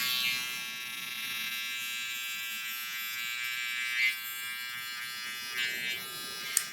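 An electric hair trimmer buzzes steadily at close range during a barber's hairline lineup for a high taper cut, with a few brief louder touches against the skin and no talking.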